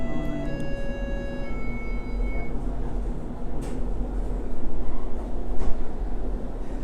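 Inside a modern articulated light rail tram in Edmonton, a steady low rumble and rolling hum carries on throughout, with a faint electronic tone near the start.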